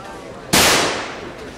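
A single sharp gunshot cracks loud and close, its report decaying over about a second with no other shots following.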